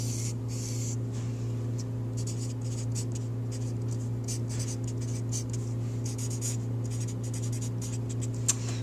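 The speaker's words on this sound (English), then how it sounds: "write your first and last name at the bottom of this paper" A pencil scratches across paper while a name is written at the bottom of a sheet, close and distinct, in short irregular strokes over a steady low room hum.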